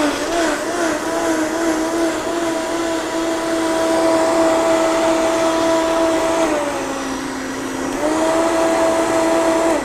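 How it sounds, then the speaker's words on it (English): A Vitamix blender whirs steadily as it purees corn, a loud continuous motor drone that dips briefly in pitch near the end before rising again. "Again, I'm rocking the Vitamix"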